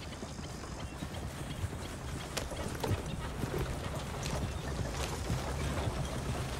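In Red Dead Redemption 2, horse hooves clip-clop in an uneven rhythm over a steady low rumble, fairly quiet with a few sharper knocks.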